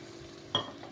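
Water is poured into a pan where coriander leaves are frying in oil for a cucumber and raw prawn curry, giving one short, sharp sizzling burst against a quiet background.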